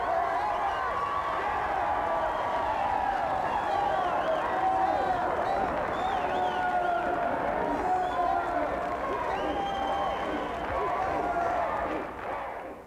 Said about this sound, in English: let's hear a championship round of applause for Teri Williams, the greatest woman basketball player